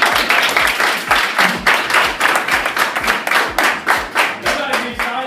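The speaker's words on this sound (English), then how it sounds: "Clap it up for him." Students clap at a middle school presentation, a loud, close burst of rhythmic group clapping in quick regular beats that fills the whole stretch.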